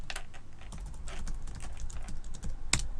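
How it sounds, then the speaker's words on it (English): Rapid, uneven clicking of keys on a computer keyboard as a URL is typed, fairly quiet and close, with one sharper tap near the end and no speech. "let's go over and let's type in a URL."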